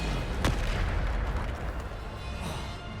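A Descendo spell in the Hogwarts Legacy video game slams an enemy down with a sharp, loud impact near the start, followed by a rumbling boom that fades over a few seconds.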